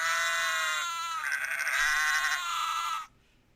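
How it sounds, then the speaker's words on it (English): Sheep bleat steadily in a loud, close, continuous cry that wavers and rises partway through before cutting off abruptly near the end, played as a sound effect for model railway layouts. "I'm gonna pick a winner right after we listen to some sheep"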